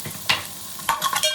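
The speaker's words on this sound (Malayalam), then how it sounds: "ഇതിലേക്ക് ഇനി നമുക്ക് നീളത്തിൽ മുറിച്ച് വെച്ച പച്ചമുളക് അതിട്ട് കൊടുക്കുക." Long-cut green chillies tossed into a hot frying pan of crab curry, a short burst of sizzling with two sharp stirring scrapes of a spoon against the pan, close and fairly loud.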